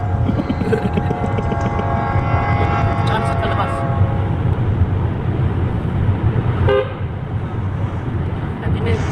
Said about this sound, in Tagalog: kung naririnig niyo yung mga busina, yun daw ay respect sa namatay